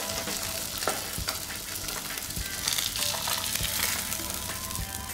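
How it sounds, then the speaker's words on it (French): Red mullet fillet pan-frying skin side down, a steady dense sizzle with scattered pops and crackles throughout, fairly close and moderately loud, with no talking. "Je poêle le rouget côté peau."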